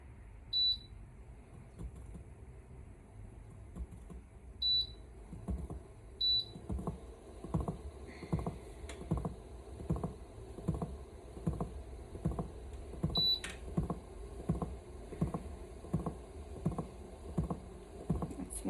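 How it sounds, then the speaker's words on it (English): A pottery wheel is switched on with a few electronic beeps, then clay spins with rhythmic, repeated wet slapping and thumping pulses that grow steadier, close and moderately loud with no talk. "So I am going to put my pottery wheel on."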